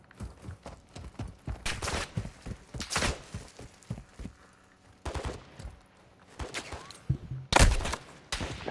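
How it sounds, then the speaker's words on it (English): Call of Duty video game gunfire, a series of loud sharp bursts and single shots coming in clusters with short gaps between them, with no talk over it. "Gunfire over here now."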